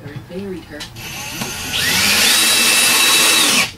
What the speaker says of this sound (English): Drill it all the way through, back it out